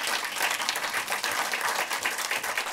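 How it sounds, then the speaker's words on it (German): Close, lively applause from a German cinema audience welcoming a film director onto the stage, brisk clapping that stays even and continuous for under three seconds. "Bitte nochmal großen Applaus, Ed Herzog, der Regisseur, bei uns auf der Bühne."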